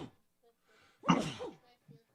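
A single close sneeze bursts out loudly in the middle during a live tabletop RPG session, with short bits of talk before and after it.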